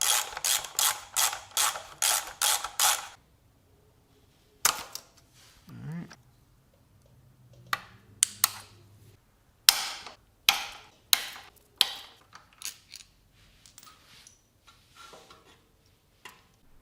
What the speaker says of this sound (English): All right, now we're taking off this rear brake lever.